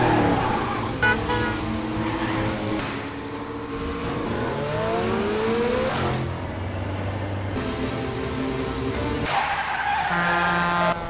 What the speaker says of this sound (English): the two got into a dramatic car chase